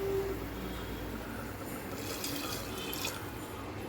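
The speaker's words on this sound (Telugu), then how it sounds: "చింతపండు పులుసు పోస్తున్నానండి." Tamarind water poured into a cooking pot of turmeric and tomato, a steady soft liquid pour with faint splashing, fairly quiet and continuous without any voices.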